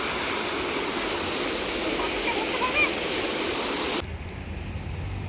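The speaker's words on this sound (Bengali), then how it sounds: "এই ঝর্ণা থেকে কত গর্জন আসছে" A fountain at the Eco Park lake sends out a loud, steady roar of rushing water that drops abruptly to a quieter wash near the end.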